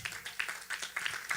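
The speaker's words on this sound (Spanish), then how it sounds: "Dele un aplauso al Señor." A church congregation claps for the Lord during a service, with a quick run of rhythmic hand claps close by in a brief burst.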